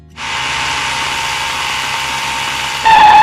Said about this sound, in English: let's go crank up our little air pump and let's put some air in this tire.